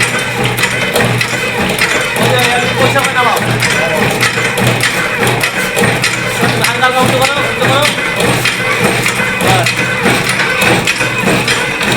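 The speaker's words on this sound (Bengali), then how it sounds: "লিলুয়ায় বাতাসা মেশিন ট্রেনিং হচ্ছে।" A batasa sugar candy making machine runs with a continuous mechanical churning and clattering drone, loud and steady throughout, while people talk nearby.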